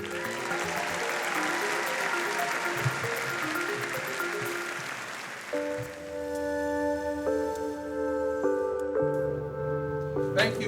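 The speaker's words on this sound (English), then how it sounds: "Please give a thunderous round of applause to these leaders." Sustained applause from an audience at a community gathering commemorating emancipation at the South Dallas Cultural Center, a broad steady wash of clapping that gives way partway through to tonal music or sustained chords.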